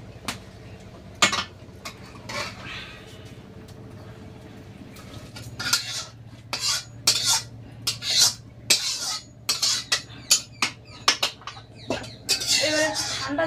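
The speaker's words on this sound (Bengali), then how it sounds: "এবার ঝুড়িতে ঢেলে দেবো" Boiled taro leaves tipped into a basket in a rural home kitchen during heavy rain, giving a run of close, wet clattering thuds and soft splashy bumps with some dish clatter.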